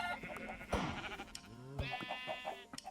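Sheep in Minecraft bleating several times, wavering nasal calls over game sounds, fairly close, with a few short clicks and thuds between them.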